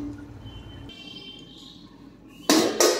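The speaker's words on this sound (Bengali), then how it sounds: "এখন আমি উপর থেকে ঢেকে দিচ্ছি।" A metal lid goes onto a pot of fish head curry with pumpkin and sugar, landing with two sharp clanks near the end after a stretch of quiet simmering.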